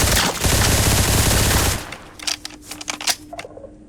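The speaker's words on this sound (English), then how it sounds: "They make skulk noises" Sculk noises from mobs in a Minecraft crimson infection mod: a loud, dense burst of noise gives way to a scatter of sharp, irregular clicks and ticks, with a faint steady tone underneath.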